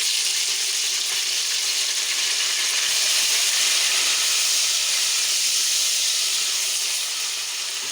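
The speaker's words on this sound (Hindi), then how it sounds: "अब हम इनमें टमाटर शामिल करते हैं।" Three chopped tomatoes land in a hot pan of golden-fried ingredients while making chana dal with potatoes, giving a steady, even sizzling hiss that carries through the whole stretch with no one talking.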